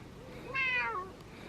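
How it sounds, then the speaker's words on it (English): A pet cat gives a single clear, drawn-out meow close by, rising then falling, with quiet room tone around it and no talking. "Happy cat."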